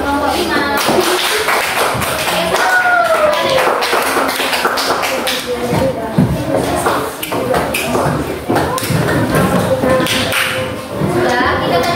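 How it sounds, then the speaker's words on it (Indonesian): Classroom applause for a student group after a presentation, a dense steady patter of many hands clapping for the full stretch, with voices calling out over it. "Berikan tepuk tangan untuk kelompok 5"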